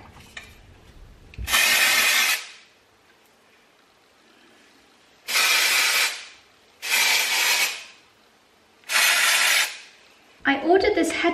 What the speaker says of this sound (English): I'm just going to pop some Living Proof Perfect Hair Day Dry Shampoo in the roots.